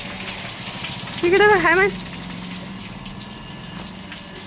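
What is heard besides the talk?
water gushing while filling water containers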